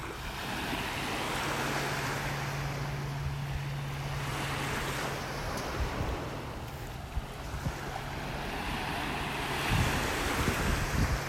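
Ocean surf rolls onto the beach at North Naples, Florida, a steady broad wash of waves swelling and easing, mixed with wind buffeting the microphone and a faint low hum.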